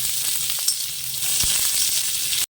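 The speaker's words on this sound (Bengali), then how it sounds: "এবার দিয়ে দেবো কুচিয়ে রাখা পেঁয়াজগুলো" Chopped onions drop into hot oil already reddened with whole-spice tempering, setting off a steady, bright sizzle that runs evenly for a couple of seconds, close and fairly loud, with no voices.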